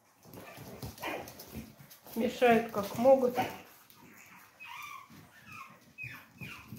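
Puppies whimper, yip and bark in short high bursts while their area is being cleaned, with someone talking over and between the little cries.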